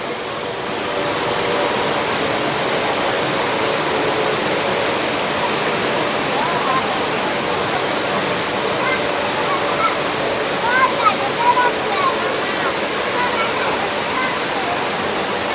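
Loud, continuous roar of the indoor waterfall at Singapore airport filling the space, with faint voices and echoing activity underneath.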